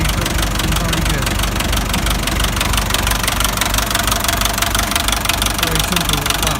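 A vintage tractor engine runs steadily at a warm-up idle, a dense, even mechanical knock and rumble heard close and continuous with no break.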